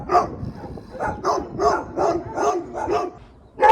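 Several dogs bark in a rapid, fairly close run of about eight barks near a house on a countryside walk in Tuscany, with no talk over them.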